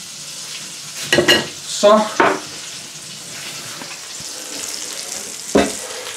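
Hamburger patties (hakkebøffer) frying in a pan, a steady soft sizzle running throughout, with a few louder bursts as the patties are turned and seasoned, and a brief spoken word.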